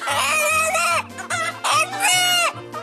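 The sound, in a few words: rooster crowing "kaka kaka"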